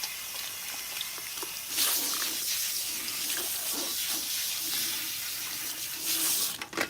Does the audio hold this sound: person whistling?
no